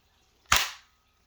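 A 2.9-gram CO2 cartridge being punctured in an Umarex HDB68 air pistol, one sharp, loud pop-hiss burst that quickly fades, alone in a quiet room.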